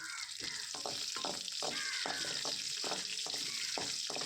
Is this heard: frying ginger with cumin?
yes